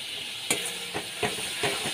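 Masala with green chili, salt and turmeric sizzles steadily in a pan for a parshe fish dish. Four or five soft scraping strokes of stirring break into the hiss at roughly even intervals.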